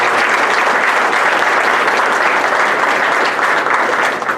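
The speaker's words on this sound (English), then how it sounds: "Maybe a round of applause for the kitchen crew this morning and all the food people." At an MLK breakfast, a crowd bursts into loud, dense, continuous applause for the kitchen crew and food staff, holding steady before tapering slightly at the end.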